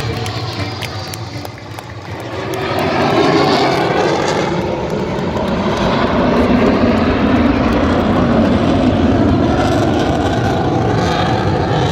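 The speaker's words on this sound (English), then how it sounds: "Tejas is a single-engine, highly agile, multi-role, supersonic fighter aircraft." A Tejas single-engine supersonic fighter jet roars past during an Indian Air Force Day air show at Sukhna Lake in Chandigarh, swelling to a loud, sustained broadband rumble after a quieter start, with no voices.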